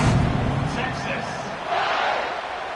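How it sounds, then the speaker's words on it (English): Stadium crowd at a Texas A&M versus Texas college football game roars and cheers, loud at first then easing briefly before swelling again, with a commentator talking over it. "You think this crowd's going to get loud when their defense comes on the field?"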